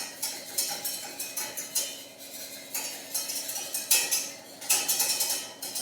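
A whisk beats melted butter into hollandaise sauce in a bowl, making a quick, steady run of light metallic clicks and scrapes that rise and fall in rhythmic strokes, close and moderately quiet, with no talking.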